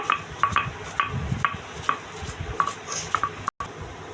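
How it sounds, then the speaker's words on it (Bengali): Onions are mashed by hand for a Bengali bhorta alongside chilies ground with salt, producing a quick series of light, rhythmic taps and squishes close up with short pauses between strokes. "এখন পেঁয়াজগুলোকে মেশ করে নিব"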